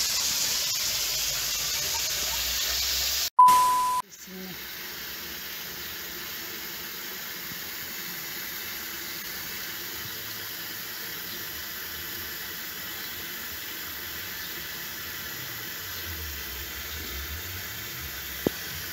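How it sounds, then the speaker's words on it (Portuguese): A swimming pool fills with water in a steady, faint hiss of running water that goes on throughout, broken once early by a short, louder burst and a clunk. "E a piscina tá enchendo lá."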